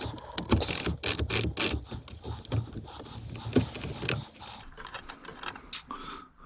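Ratchet clicks rapidly in bursts while loosening a 13/16 bolt on the steering column of a 2007–2013 Chevy Silverado 2500HD, sharp close clicking slowing toward the end.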